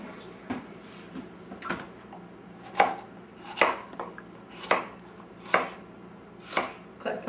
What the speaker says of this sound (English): Cut some of the strips.